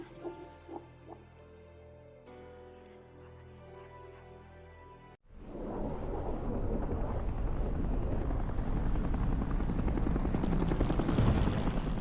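An aircraft in the Bayonetta video game roars in suddenly midway as a loud, steady engine rumble, after a quieter stretch of soft tonal game music.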